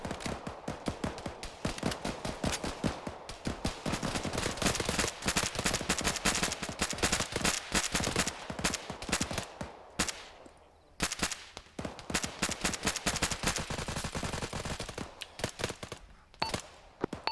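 Sustained gunfire during infantry contact in a military simulation training operation, rapid bursts of automatic fire and crackling shots, loud and near, continuing almost without pause with a brief lull midway.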